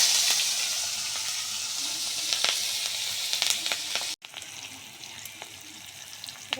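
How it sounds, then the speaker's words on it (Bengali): Dried fish fries in hot oil in a pan, a steady close bright sizzle with crackles and spits that cuts sharply and resumes quieter toward the end. "শুটকি মাছটা আগে ভেজে নেব। তেল দিয়ে দিলাম"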